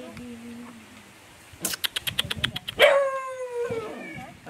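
A chained dog on a farm barks in a quick burst of sharp yaps, then lets out a longer whining yelp, fairly close, over a faint murmur of background voices.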